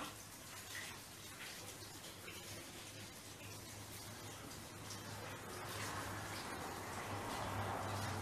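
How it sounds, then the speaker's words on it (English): Tap water runs steadily while hands are washed at a sink, a continuous moderate hiss and splash that swells slightly toward the end, with a low hum underneath and no speech. "I'm going to go and wash my hands off"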